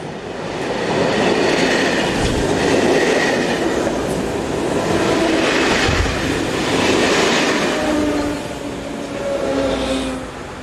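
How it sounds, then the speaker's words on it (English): A pair of older early-1970s multiple units rolls through Schifflange station in Luxembourg on an empty stock working, wheels clattering steadily at close range with loud rumble and faint squeals throughout. "a pair of older units dating from the early 70s passed by on an empty stock working for Luxembourg"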